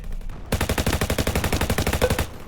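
Automatic fire in a Roblox shooter modelled on Call of Duty, one rapid, evenly paced burst of about two seconds that starts abruptly after a quiet moment, loud and close with no speech.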